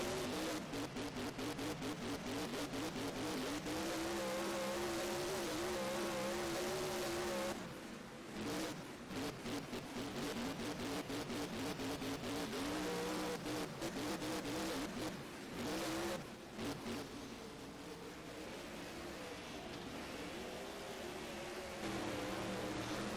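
Late model race cars roar around the dirt oval at Eldora at night, engines revving loud and continuous as the pack passes close by, with brief dips when cars swing away before the howl swells again.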